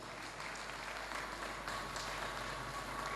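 Applause from an audience at a stage play event in Indore, a steady broadband patter of clapping sustained for several seconds with no voices over it.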